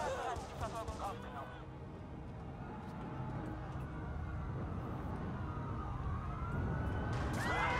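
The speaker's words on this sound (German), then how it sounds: "Da flog gerade ein Polizeiauto." A police car siren in Watch Dogs wails with rising and falling tones at the start and again at the end, over steady traffic rumble and game ambience.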